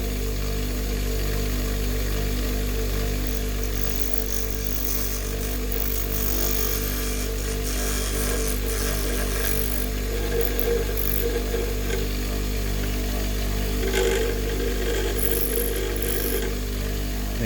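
A grinding wheel's edge shapes the curve of a plastic tail light lens, a continuous close whirring grind that holds steady throughout with slight shifts in pitch as it works the plastic.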